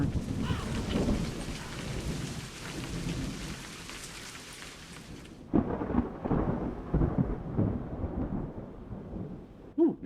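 Heavy rain and rolling thunder fill a storm in the Highlands game A Highland Song, a dense, loud downpour that turns muffled and duller partway through as deep rumbles continue, with no talking.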